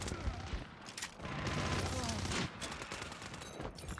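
Rapid bursts of MG 42 machine gun fire in a video game campaign, quiet and rattling in dense volleys with some game effects mixed in.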